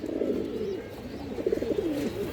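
Pigeons, a breeding pair of silver Bagha pigeons, coo softly in repeated low, throaty phrases, close by over a quiet background hum.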